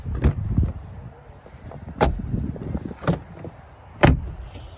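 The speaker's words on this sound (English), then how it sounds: "You can hear the doors unlock." Door locks of a 2021 Jeep Wrangler Rubicon actuate through keyless entry, several sharp mechanical clunks spaced about a second apart, close by over a quiet background.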